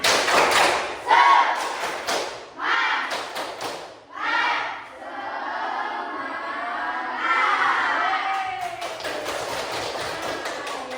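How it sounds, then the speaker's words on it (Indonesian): A classroom of pupils performs the rhythmic 'tepuk semangat' spirit clap chant, bursts of loud clapping alternating with shouted chanting, with a teacher's voice between. "Tepuk semangat."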